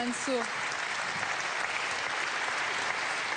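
Sustained audience applause at a national awards ceremony, an even, dense wash of clapping throughout, with a brief voice audible at the very start.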